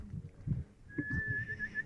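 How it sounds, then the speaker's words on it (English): A person whistles one long, steady high note that holds for about a second, over low rumbling wind or handling noise, while hiking Mount Moosilauke in New Hampshire's White Mountains. "That's like a Gandalf whistle."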